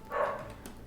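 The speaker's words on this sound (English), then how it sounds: "Bloody dog." A dog gives a single short bark, fairly close and moderately loud, followed by a brief quieter tail of room sound.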